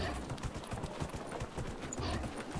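Horse hooves clip-clop in a quick, steady rhythm while riding in the video game Dragon Age Inquisition, close and fairly quiet with no talk.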